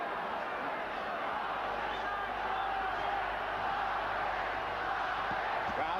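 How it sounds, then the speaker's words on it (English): Dense boxing arena crowd at the Julio Cesar Chavez versus Oscar De La Hoya fight, a steady roar with a chant rising through it, close and loud throughout. "Crowd chanting Chavez,"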